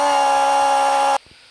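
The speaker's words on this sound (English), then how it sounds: "Apparently that's what a 580K sounds like when it's sped up" A Case 580K backhoe loader engine, sped up into a high, buzzing whine, holds steady for about a second and then cuts off abruptly.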